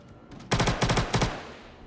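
Three rapid bursts of automatic gunfire in Star Citizen, loud and close, each a rattling volley of shots separated by short gaps, with a faint tail fading afterward.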